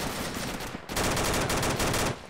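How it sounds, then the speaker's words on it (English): Sustained machine gun fire in the military shooter Arma 2, a dense, rapid rattling burst that breaks off briefly and resumes even louder, close and continuous with no talk over it. "Machine gun."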